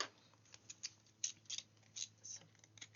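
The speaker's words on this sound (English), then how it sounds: "I'm going to go around with fancy scissors, and I'm using my oval as a guide to cut round." Fancy-edged craft scissors snip around a paper oval in a series of short, crisp cuts with small pauses between them, fairly quiet and close, with no talking.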